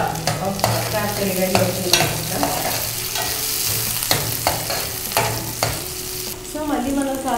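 Mint leaves frying in a pan for a Telugu-style crab curry give a steady sizzle, with repeated sharp scraping and stirring strokes close by, and a brief spoken phrase near the end.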